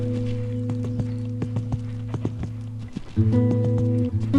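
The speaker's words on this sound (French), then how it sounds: "Donc là je la fais un peu galoper." A horse being ridden, with hoof clip-clop under strong tonal engine-like hum; the rhythm shifts partway through, turning denser and louder.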